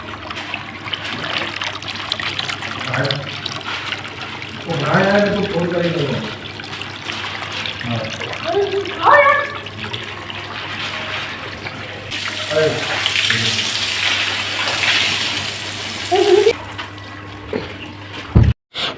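Tap water runs and splashes into a container at home in a continuous trickling wash, while someone speaks over it at intervals and the flow briefly surges louder near the end.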